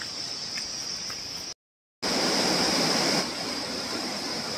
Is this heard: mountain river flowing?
yes